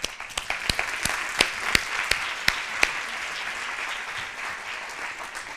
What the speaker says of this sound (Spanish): para los que les pido un aplauso